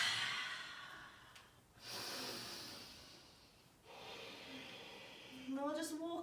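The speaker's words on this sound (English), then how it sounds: "And just breathe." Slow, deep breathing during a yoga flow, with long drawn inhales and exhales that swell and fade in a calm rhythm, close and soft, and a brief voiced sound near the end.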